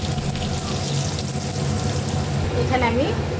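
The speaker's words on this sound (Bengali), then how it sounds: "আমি মাছ ভাজার তেলের ভিতরে আলুটা ভেজে নিচ্ছি।" Potato pieces fry in mustard oil already used for frying fish, giving a steady, close hiss and crackle that runs throughout with a brief watery splash near the end.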